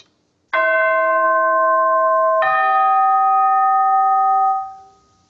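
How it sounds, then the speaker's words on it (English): Two bright metallic strikes of a chime hammer on the top edge of orchestral chimes, the second following a couple of seconds after the first, ringing out clearly and then fading away. "You want to play on the very top edge to get the best sound on the chimes."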